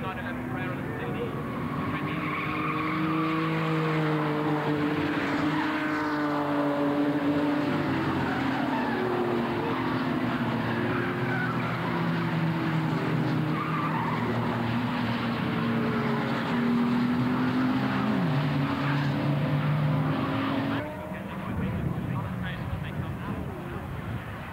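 Historic touring cars race at Croft Circuit, their engines droning and whining under steady commentary, with shifting tones as the cars brake into a corner, the racket continuous before dropping off near the end.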